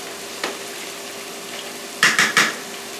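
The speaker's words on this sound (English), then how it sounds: "So now we have our onion sauteing." Onions sauteing in a hot pan on high heat for shepherd's pie soup with potatoes, a continuous soft sizzle under sharp utensil clatters and scrapes against the pan, including a quick burst of three knocks near the end.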